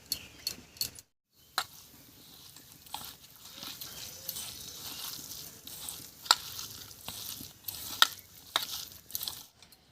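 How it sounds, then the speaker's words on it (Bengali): Bottle gourd peel being hand-mixed with gram flour, sugar, whole coriander and turmeric, giving soft, intermittent squelching and rustling with a few sharp clicks of utensils, close and fairly quiet. "এবার এর উপরে দেব 2 চামচ মতো বেসন, দেব হাফ চামচ মতো চিনি, এবারে 1 চামচ মতো গোটা ধনিয়া আর স্বাদ মতো হলুদ দিয়ে ভালো করে মেখে নিচ্ছি"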